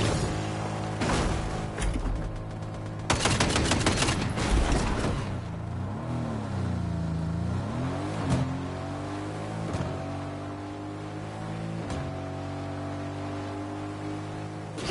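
Fortnite gunfire crackles in short broadband bursts, with a cluster near the start and a dense, sustained volley a few seconds in, all set against steady game music and ambient effects.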